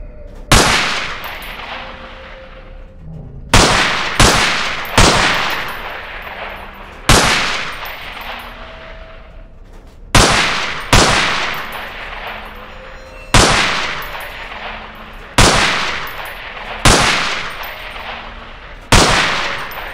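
Single gunshots fired at pop-up targets in the Underhell game, a dozen loud sharp cracks in irregular pairs and singles, each trailing a ringing echo that fades before the next.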